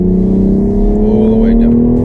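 Engine of an F97 BMW X3 M Competition on the Kyalami Circuit in South Africa drones steadily from close inside the cabin, its tone holding firm and edging slightly upward under acceleration across the whole stretch.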